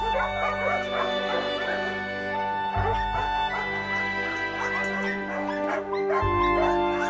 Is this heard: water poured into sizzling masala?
no